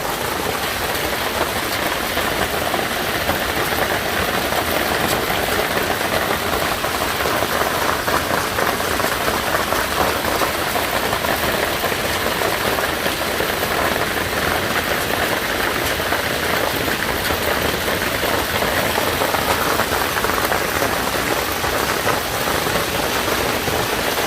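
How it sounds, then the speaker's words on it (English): Hail pours down in a dense, continuous clatter, loud and close, a steady roar of hard pellets striking surfaces with no voices over it. "That's how big the hail is."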